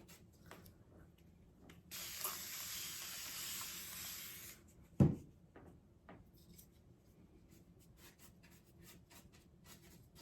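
A short, broad hiss of a spray bottle used to age a store-bought piece with patina and rust, lasting a couple of seconds, followed by a sharp thud, over a quiet background with faint rustling.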